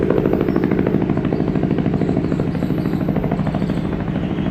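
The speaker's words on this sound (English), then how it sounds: "And then there's another helicopter over here somewhere. But they're just hovering." A helicopter drones steadily overhead, its rotor chop thrumming loud and continuous with no voices.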